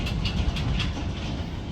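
Freight train pulled by a pair of old EMD diesel locomotives, an SD40-2 and an SD60, rolling past with steady rumble and rhythmic clickety-clack of wheels on rail joints, close and continuous.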